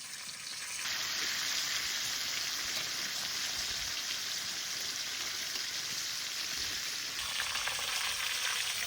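Rohu fish fillets sizzle steadily in hot oil after being flipped to fry the other side, a loud continuous hiss and crackle close by that holds from start to finish, with no talk.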